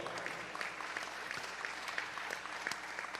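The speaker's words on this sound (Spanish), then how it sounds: "dale un aplauso al Señor" Congregation applauding during a Spanish-language church sermon, continuous scattered clapping heard from a distance, soft and even with no talk over it.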